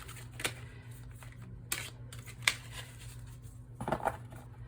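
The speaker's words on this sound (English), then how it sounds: "I might shuffle off camera a little bit" Oracle cards being shuffled by hand during a pick-a-card reading, giving soft papery riffles and taps, with a brief burst of card shuffling near the end over a steady low background hum.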